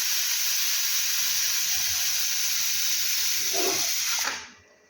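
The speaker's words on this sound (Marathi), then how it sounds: "कुकरच्या पाच शिट्ट्या झाल्या आहे" A pressure cooker holding rice and dal lets out a long, loud, steady hissing whistle of steam that cuts off abruptly near the end.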